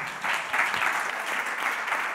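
Audience applause at a music event, a dense steady wash of many hands clapping at close range, continuous and fairly loud throughout with no voices over it.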